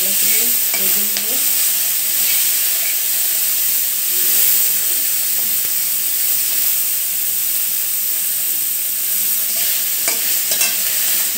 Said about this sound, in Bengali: এই যে তেল গরম হয়ে গেছে, এখন আমি দিয়ে দিব এখানে লবণ আর হলুদ মাখানো শুটকি মাছ দিয়ে আমি একটু ভালো করে ভেজে নেব